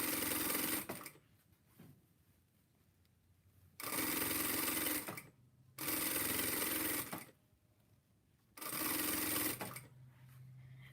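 A sewing machine stitching a baby Christmas tutu outfit runs in four loud whirring bursts with quiet pauses between them, heard close up.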